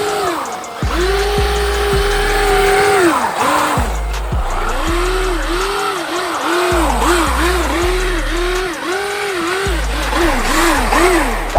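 A 6S Traxxas UDR RC truck spinning its tires on ice at full throttle, its electric motor giving a loud, continuous high whine that surges and dips rapidly as the wheels break loose and bite.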